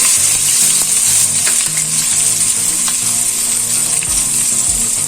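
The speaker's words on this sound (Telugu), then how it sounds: "ఇప్పుడు ఇందులోకి మనం కట్ చేసి పెట్టుకున్న ఆనియన్ ముక్కలు యాడ్ చేసుకోవాలి." Chopped onions fry in hot tempering oil for an Andhra-style yam curry, a loud close continuous sizzle with a low steady hum underneath and occasional faint stirring, no speech.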